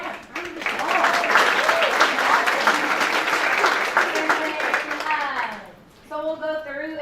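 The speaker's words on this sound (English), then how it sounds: "Yeah, round of applause." An audience at a school board meeting breaks into loud, sustained applause, dense clapping and a few whoops that fade out near the end before a voice resumes speaking.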